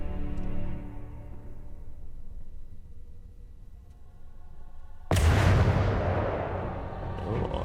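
A shell fired at armour in From the Depths lands with a sudden loud blast after a low, fading rumble, then the roar decays slowly.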